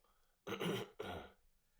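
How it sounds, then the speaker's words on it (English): Two rough, close throat clears from a smoker in quick succession, the second slightly longer, followed by quiet. "if you can't stand my normal smoker's cough, throat clearing"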